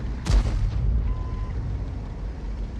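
Hummel self-propelled artillery firing a shell in World of Tanks: a single loud, deep boom near the start that rolls off into a rumbling tail, with low battle ambience continuing afterward.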